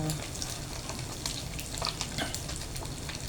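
Galunggong fish frying in oil in a home kitchen, with a steady close-up sizzle and frequent sharp spatters and pops throughout.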